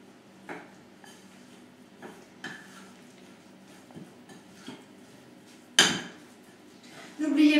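Oat bran pancake batter being stirred in a bowl: a utensil knocks and clinks against the bowl in irregular taps, faint and close, ending in a louder scrape and clatter.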